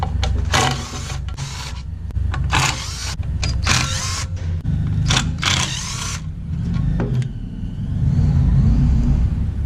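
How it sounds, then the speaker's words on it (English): A screw gun spins out T30 Torx skid plate bolts on a BMW R1200GS motorcycle, giving several short, loud whirring bursts separated by brief pauses, close by. "I'm going to use my screw gun to make this job easier."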